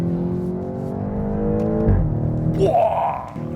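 A BMW X6 M's 4.4-litre twin-turbo V8 revs and accelerates up close, a throaty roar climbing in pitch, dipping at a gear change and then rising again.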